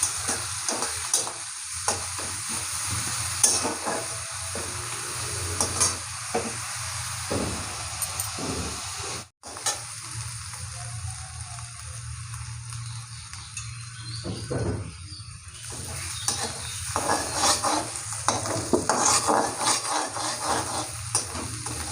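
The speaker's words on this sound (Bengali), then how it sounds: "পেঁয়াজ বাটা, পেঁয়াজটা ভালো করে ভেজে নেবো।" Onion paste frying in a pan while cooking Bengali paneer matar, a continuous sizzle broken by frequent spatula scrapes and stirring knocks, with a brief dip to near quiet midway and no talk.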